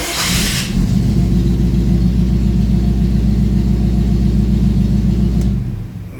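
After a brief starter crank, a car engine catches and settles into a loud, steady low rumble close by, then cuts off after about five seconds.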